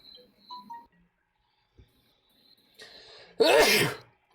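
A few faint scattered noises give way to a sharp inhale, then a loud, close, explosive sneeze.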